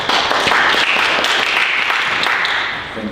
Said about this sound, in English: Welcome with the applause.